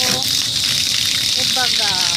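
Water gushing from a tap or pump into a large pot at an outdoor village water source, a steady hissing pour under a child's and adults' voices.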